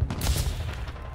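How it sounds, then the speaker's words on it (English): Sniper gunfire in the battle royale video game H1Z1, a quick cluster of heavy shots with booming low-end thuds and bullets whizzing overhead, loud and close. "There's bullets flying over my head"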